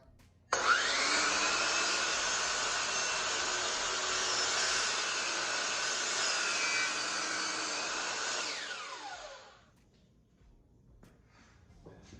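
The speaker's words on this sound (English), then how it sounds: "now we're going to cut all our 5-foot pieces for the slats and for the front" Power saw cutting 5-foot wood slats in a woodworking shop, one steady, loud, broadband whine lasting about eight seconds before spinning down and fading.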